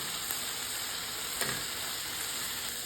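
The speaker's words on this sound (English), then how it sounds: "We add the shrimps." Shrimps frying in a pan with soy sauce, a dense continuous sizzle, close and steady, with a faint stirring scrape midway.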